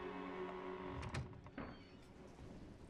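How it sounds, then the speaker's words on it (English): A door in Resident Evil 7 Biohazard slides and thuds shut with a short mechanical whir, followed by a softer knock, over a steady low hum of game ambience. "I'm just going to close this door."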